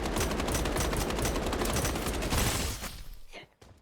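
Rapid automatic gunfire from a video game weapon with heavy recoil, sounding as a dense, sustained stream of shots for about two and a half seconds before cutting off into a few sparse trailing sounds.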